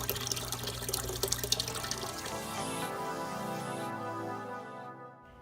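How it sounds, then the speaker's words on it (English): Water gushes and splashes steadily as it is pumped into the sump of a Red Sea Reefer XL 425 aquarium, a close, continuous rushing flow with dripping and trickling that tapers off near the end. "wait for the water to start pumping"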